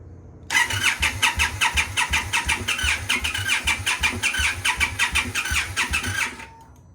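A 2016 Indian Scout Sixty motorcycle fitted with an S&S air intake cranks and fires, settling into a loud, pulsing idle with a steady rhythmic throb before cutting off near the end; no one talks.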